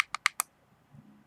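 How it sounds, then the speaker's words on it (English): Four quick, sharp clicks of the fire button on a Koopor Mini 60W temperature-control vape mod, evenly spaced and close, followed by a faint low murmur. "why am I clicking 5 times?"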